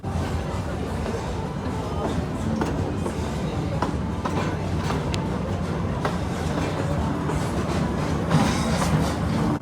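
Kings Island amusement park train pulling away along its track, a continuous rumbling roll with rhythmic clickety-clack of wheels over rail joints, steady and close, with a voice talking over it.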